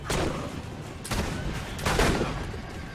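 Bursts of rapid video game gunfire crackle in quick volleys, dense and steady, with a few heavier shots standing out, from Assassin's Creed Brotherhood.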